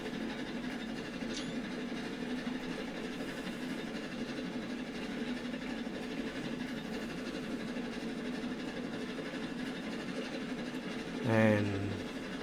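A train in the video game Railroads Online rumbles along with a steady low engine drone and faint rail clatter, broken by a brief rising whistle-like squeal near the end, with a voice talking over it.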